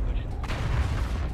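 Mech weapons firing in MechWarrior Online: dense, rumbling bursts of gunfire and booms that roll continuously at close range, with voices partly under the noise.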